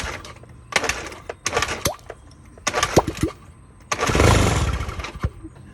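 A motorcycle that would not start in the forest, cranked after its carburetor jets were blown clean: several short sputtering bursts and kick attempts, then a longer rough rumble as the engine briefly catches, close and loud.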